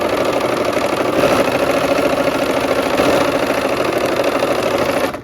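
A sewing machine stitches a seam while autumn quilt blocks are joined, giving a steady, continuous mechanical whir that runs loud and unbroken for about five seconds before stopping.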